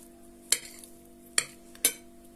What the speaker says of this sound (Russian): И перемешиваем